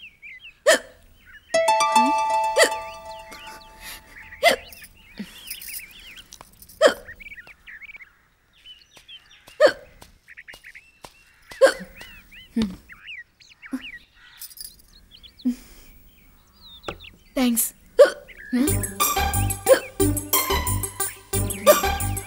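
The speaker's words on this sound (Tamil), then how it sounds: "விக்கல் வந்துட்டே இருக்குல்ல, தண்ணி குடிக்க வேண்டியதானே?" In a Tamil film scene, a person hiccups again and again with sharp, close gulping catches spaced a few seconds apart, and music swells in at the end.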